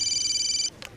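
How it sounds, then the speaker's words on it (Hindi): A telephone rings with a loud, steady electronic trill of rapidly warbling tones that cuts off after about two-thirds of a second, followed by a brief soft rustle. "Excuse me, जरा फोन आ गया।"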